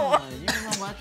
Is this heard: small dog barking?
no